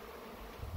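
Russian and northern hybrid honey bees buzz near a hive, a dense steady hum that swells slightly at the end, with no voices.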